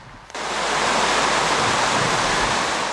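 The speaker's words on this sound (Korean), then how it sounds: "두껍게 얼었던 눈이 녹은 모악산에선 계곡물이 경쾌한 소리를 내며 흘러내립니다" A meltwater stream rushes steadily down a mountain valley at Moaksan after thick snow has melted, a close, continuous broadband roar of flowing water that holds loud and unbroken throughout.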